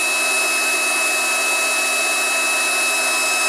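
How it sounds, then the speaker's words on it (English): Induction heater warming a nut on a 1997 Detroit Series 60 turbo: a steady, loud electrical whine and hiss with a constant high tone, unchanging throughout. "induction heater on that nut"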